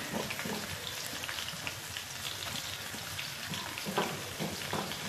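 A paste of ginger, garlic and green chili fries with onions in hot oil for a pea pulao, giving a soft, steady crackling sizzle at low volume with scattered pops and no talking.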